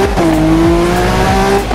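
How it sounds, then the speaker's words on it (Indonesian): Car engine roaring at high revs in the Need for Speed Rivals racing game, loud and close with tire squeal and shifting engine pitch across the short burst. "Suara mobilnya juga bagus anjir"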